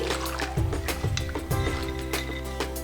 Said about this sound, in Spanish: Vamos a enjuagar así.